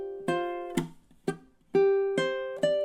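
Ukulele moves between fingerpicked notes and short strums of a song: bright plucked attacks with ringing harmonics, a sparse uneven rhythm of about six hits, close and moderately loud with no voice.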